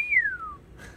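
A single clear whistle sliding downward in pitch over about half a second, followed by a faint breathy trail.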